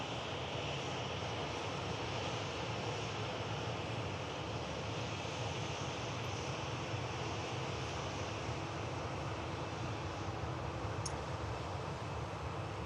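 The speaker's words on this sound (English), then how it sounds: "We have a Turkish Airlines A321neo heading back to Istanbul" A Turkish Airlines A321neo departing Manchester Airport gives a steady, distant jet-engine roar that holds evenly throughout, faint and broad like wind, with no talking.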